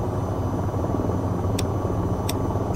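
Attack helicopter engine in the VTOL VR flight game, throttled up at take-off: a loud, steady, dense rotor and turbine roar, continuous and close, with two faint high clicks over it.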